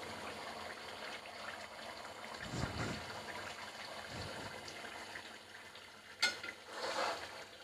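Spiced liver (kaleji) frying in masala is stirred in a pan, giving a faint sizzle with soft scraping strokes and a louder clatter toward the end, no talking.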